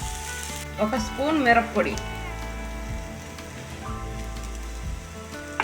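Washed dried shrimp shells sizzle and fry in oil in a pan, with a spoon stirring now and then. Someone speaks over the steady crackle.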